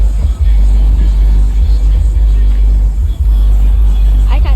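Loud lowrider car engine idling and rumbling at an outdoor car show, a steady heavy low-end drone throughout with brief dips, close by.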